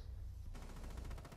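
Gunfire in the Rainbow Six Siege video game: after a half-second lull, a rapid burst of automatic shots rattles on steadily, loud and alone with no talk.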